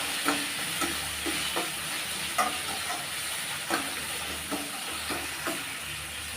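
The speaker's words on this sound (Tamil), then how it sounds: "வெங்காயம் வந்து ஓரளவுக்கு கண்ணாடி பதம் வர அளவுக்கு நல்லா வதக்கி விட்டுக்கலாம்" Onions sauté in a hot pan for a rice lunch-box dish, a steady close sizzle and hiss broken by regular scraping clicks as a spoon stirs them around.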